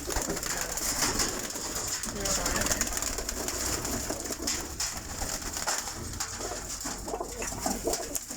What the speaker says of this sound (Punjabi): ਇਹ ਵੀ ਉਸੇ ਕਬੂਤਰ ਦੀ ਪੱਠੀ।